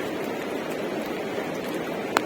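Heavy rain pouring down on a shelter along a Himalayan trek, an even, unbroken hiss of rainfall with one brief sharp knock near the end and no voices.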